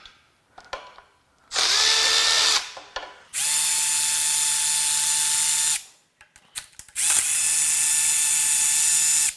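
A power socket tool whirs in three sustained bursts, removing crank sensor bolts from a BMW Mini Cooper S N18 engine, with short clicks and rattles between runs.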